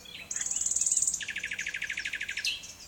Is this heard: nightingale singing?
yes